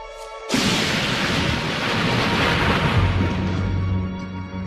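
A thunderstorm at the beach opens with a sudden loud burst of thunder that swells into a long, heavy, roaring rumble, mixed with wind and surf, before easing slightly at the end.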